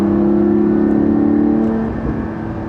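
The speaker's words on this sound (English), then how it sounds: "It is a deeper, throatier sounding car." Porsche 718 GT4 engine holding a steady, deep, throaty rev with a strong tonal hum, then easing off near the end as the pitch and loudness drop.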